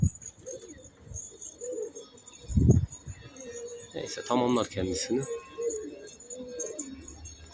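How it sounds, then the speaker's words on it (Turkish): Pet pigeons coo softly from a rooftop loft, with a low burbling coo and a brief flutter amid background noise, while someone talks over them. "Kafamızın üstünden yağmur gibi kuş gidiyor"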